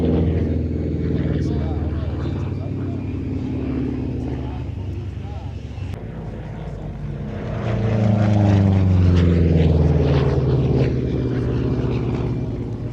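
A heavy single-engined P-47 Thunderbolt propeller fighter flies at the Duxford Battle of Britain airshow, a distant drone rising into a loud, pitch-sweeping pass late on, with talk running over it.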